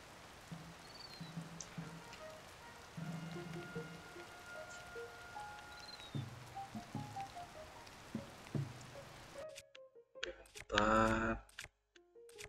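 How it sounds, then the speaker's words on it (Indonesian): Steady in-game rain from The Legend of Zelda: Tears of the Kingdom patters softly across a wide band, with scattered game tones layered on top, before a loud burst of another sound near the end. "Hujan terus nih sini."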